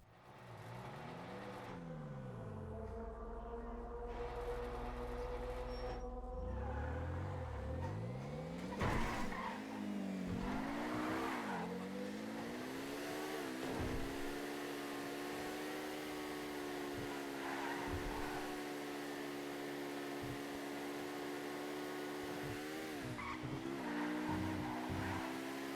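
A legendary sports car from GTA Online revs and accelerates through repeated up-shifts, with rising and falling engine tones, brief tire noise and steady loud motor drone throughout, no talking.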